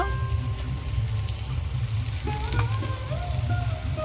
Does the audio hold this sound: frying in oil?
yes